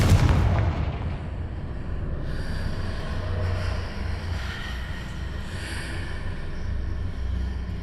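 The Confringo fire spell in Hogwarts Legacy goes off with a sudden booming blast, then a rumbling roar and crackle that lingers for several seconds.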